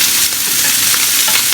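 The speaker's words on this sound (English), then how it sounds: "So you hear how this is cooking. It's frying nicely." Onions and ham fry in a pan with a loud, close, continuous sizzle and crackle, steady throughout with no talking.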